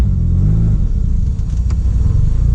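A Mitsubishi DSM car pulls in second gear after a clutch repair, with a loud, close, steady low engine rumble that holds throughout.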